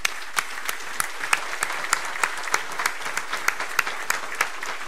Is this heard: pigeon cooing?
no